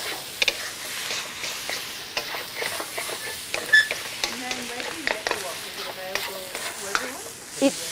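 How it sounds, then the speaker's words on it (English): Stir frying in a Mako wok with soy sauce, fish sauce, a dash of sugar and black pepper: steady sizzle with scraping stir strokes and ticking utensil taps, a voice briefly talking over it. "Okay, now stir fry all of that."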